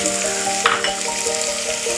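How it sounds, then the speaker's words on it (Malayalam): Potatoes fry in hot oil in a pan, giving a close, steady sizzle with faint stirring scrapes, and a soft tonal hum lies underneath. "ഈ എണ്ണ ചൂടായി കഴിഞ്ഞാൽ ഇതിലോട്ട് നമുക്ക് കിഴങ്ങ് ചേർത്ത് കൊടുക്കാം."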